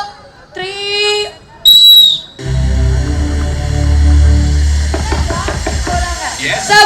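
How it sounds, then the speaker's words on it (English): A sports whistle blown during a children's race at a school annual sports meet, with two sharp high whistle blasts early on, then general crowd and field noise as people talk. "I didn't give the whistle."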